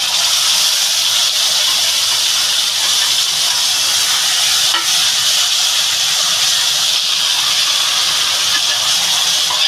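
Pointed gourd and drumsticks frying in mustard oil, a loud, dense, continuous sizzling hiss that holds steady throughout.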